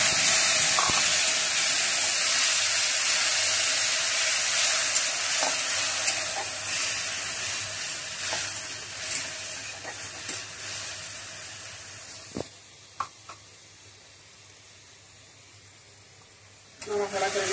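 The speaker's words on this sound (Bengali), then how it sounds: "সেই মশলাগুলো দিয়ে দেবো তেলের উপরে" Ground spice paste sizzles and hisses steadily in hot oil in a Bengali home kitchen, loud and continuous with occasional stirring clinks, fading lower toward the end; a voice talks over it.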